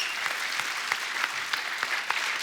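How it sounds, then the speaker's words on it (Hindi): Dense applause from a TV comedy show studio audience, steady and continuous, with many hands clapping at once and no voices standing out. "और एक बात के लिए और तालियां बनती है"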